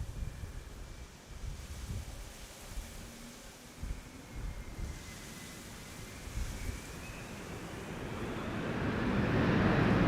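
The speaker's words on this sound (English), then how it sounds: "Yes, reversers. That's what we want to hear." Airliner thrust reversers roar on landing at Amsterdam's Polderbaan runway 18R in windy conditions, a broad low rumble building steadily and growing loud toward the end over gusting wind noise.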